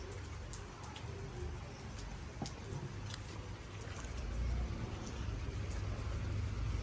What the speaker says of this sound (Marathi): पाऊस चालू आहे बाबा. भुरभुर.